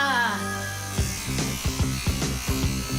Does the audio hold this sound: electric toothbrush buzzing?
yes